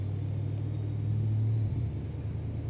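Porsche Panamera Turbo S engine running in fifth gear on a dyno: a steady, deep engine rumble throughout, loud and close, with a slight dip in tone toward the end and no talk.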